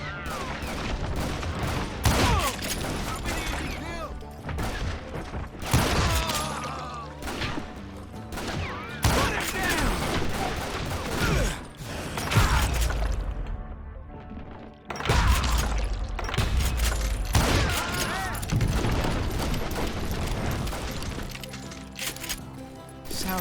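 Rapid gunfire from a band of hired guns in Call of Juarez, repeated sharp cracks and volleys in bursts with short pauses, loud and close.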